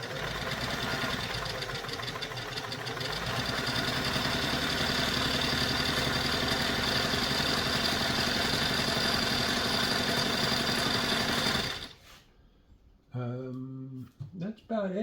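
A Singer 328k sewing machine stitches a wide zigzag at a close, loud, rapid mechanical chatter, running steadily for about twelve seconds before stopping, followed by brief speech.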